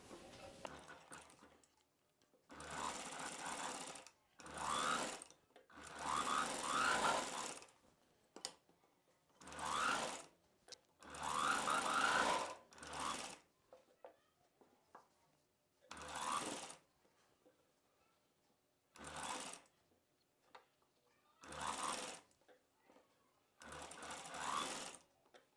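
Sewing machine stitching the sleeves onto a cotton summer frock for kids, running in repeated bursts of fast rattling stitches separated by quiet pauses, close and clear.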